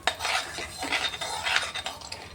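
Spoon stirring a hot spice tempering of asafoetida and turmeric in a pan on a just-switched-off gas flame, steady scraping and clinking of metal over a soft crackle, close and alone without speech.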